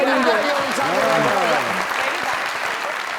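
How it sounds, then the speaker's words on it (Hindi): Loud applause from a studio audience welcoming a guest onto a talk show, a dense burst of clapping heard close that fades over about three seconds while voices speak over it. "यार ये क्या प्यार यार, जरा तालियां"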